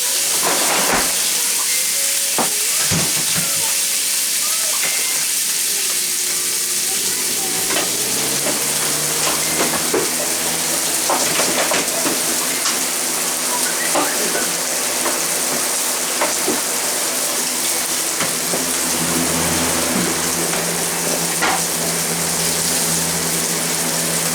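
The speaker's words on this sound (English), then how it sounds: "So now the steak is really sizzling." Loud, continuous sizzling of steak in a hot pan, with crackles, pops and an occasional clatter of utensils throughout.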